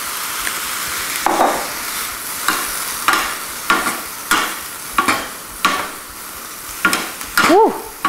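Arugula is tossed with two utensils in a hot pan as it wilts, giving a soft sizzle under repeated rhythmic scraping and clattering strokes, then a brief metallic ring at the end.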